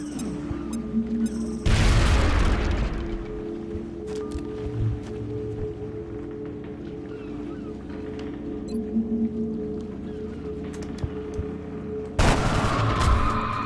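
A grenade in a video game goes off with two heavy booming blasts several seconds apart, separated by a low rumbling stretch scattered with faint gunfire and clatter, loud and close with no talk.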